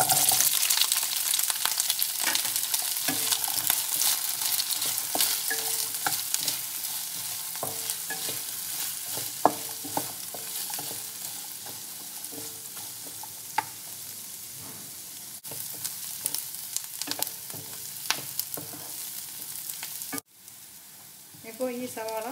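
Onions frying in coconut oil in a pan for a Kerala-style fish curry without coconut sizzle steadily, broken by repeated scraping and stirring clicks of a utensil, close and moderately loud with a brief pause near the end.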